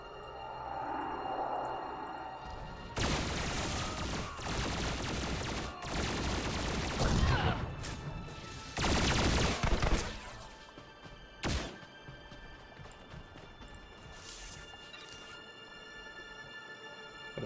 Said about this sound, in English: Got a minor explosion there